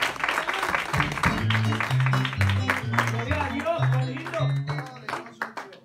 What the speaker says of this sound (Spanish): yo quiero un aplauso para estos hermanos en esta hora